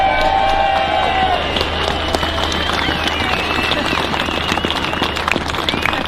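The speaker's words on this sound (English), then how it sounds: "another big round of applause for Sally Field" A large outdoor crowd at a farmer protest in London applauds and cheers, a dense, loud, continuous wash of clapping and voices with a speaker's voice over a PA.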